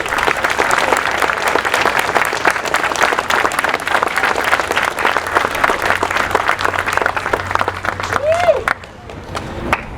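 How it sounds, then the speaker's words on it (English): Sustained round of applause from a graduation audience honoring the staff, dense steady clapping filling the hall for about nine seconds before dropping off abruptly near the end. "I would like them all to stand and accept your round of applause."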